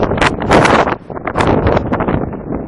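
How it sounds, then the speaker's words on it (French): Strong wind gusts buffet the microphone outdoors on a fitness trail, loud roaring bursts with a brief lull midway. "Donc, il y a énormément de vent."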